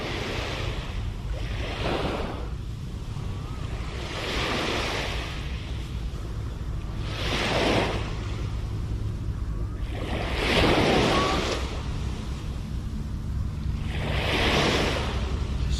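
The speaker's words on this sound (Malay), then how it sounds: "ombak pun sama juga tolak air" Ocean waves at Port Dickson beach wash in and break in a slow repeating rhythm every few seconds, each surge swelling over constant wind buffeting the microphone, with no voices.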